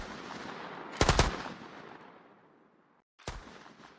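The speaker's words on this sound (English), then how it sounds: "The British guns started firing" British guns fire in a loud, close burst of rapid shots that trails off into a long, rumbling decay. One more sharp blast cuts in near the end, with no voices.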